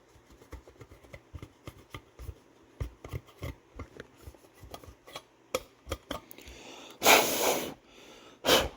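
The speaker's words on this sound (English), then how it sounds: "I'm blowing it out is what that noise is" Short puffs of breath blown into a 1977 Ford LTD Country Squire dashboard clock to clear out dust, a run of close, soft rasping bursts followed by two louder, longer blows near the end.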